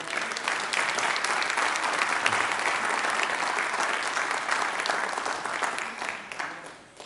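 A church congregation at a Portuguese-language service gives loud, sustained applause for the Lord during a sermon, a dense continuous clapping that fades toward the end with no talk over it.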